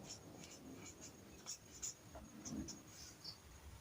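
A pen scratches out a math solution by hand, with soft, irregular strokes and taps over a steady hiss of room noise; the sound is close and quiet.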